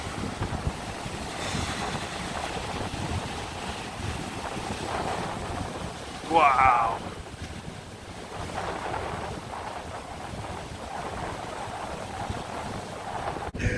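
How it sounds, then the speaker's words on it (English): Stormy waves pound a UK beach in a steady, rough roar with heavy wind buffeting the microphone, and one person briefly exclaims partway through. "The waves are absolutely pounding in. It's becoming very stormy."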